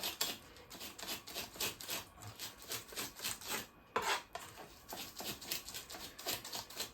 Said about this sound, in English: You chop up your garlic really finely